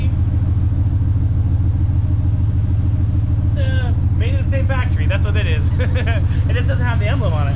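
A car engine starts and settles into a steady low idle, with a cold engine rumbling continuously and loud throughout while people talk over it in the second half.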